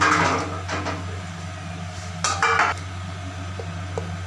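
Beef pieces dropped into water in a pressure cooker for a potato and cauliflower curry, with a few sharp metallic pot clatters and knocks, near and loud, no talking.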